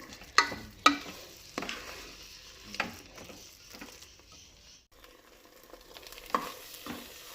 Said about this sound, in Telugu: ఇప్పుడు ఇవన్నీ వేసేసి బాగా కలుపుకోవాలి బాగా దగ్గరకు వచ్చేలాగా